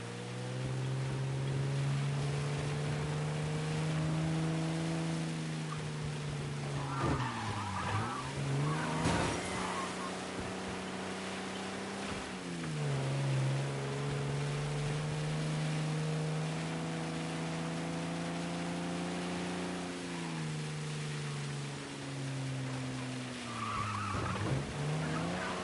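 Car chase in Mafia: Definitive Edition, with a droning engine rising and falling through gear changes and repeated tire skids and squeals as the car swerves, loud and continuous with no talk.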